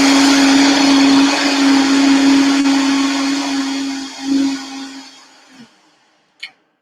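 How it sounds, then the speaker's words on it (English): A blender whirs steadily while mixing superfood hot chocolate until creamy, its motor humming loud and close before winding down, followed by a short clink. "So then we're just going to blend these in until creamy and smooth."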